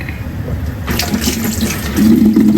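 Cabbage is rinsed under a running kitchen tap: a close, steady splashing water stream that grows louder and fuller toward the end, with no talking.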